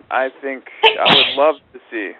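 A person sneezes once, a sharp explosive burst in the middle of ongoing talk from a nearby speaker.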